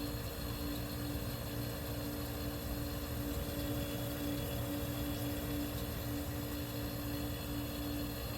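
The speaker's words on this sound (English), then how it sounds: "The fan motor's starting to slow down a little bit." A 1973 Westinghouse 25-pint dehumidifier's fan motor, starting to slow, gives a steady, even hum with a faint mechanical whir, alone and unchanging throughout.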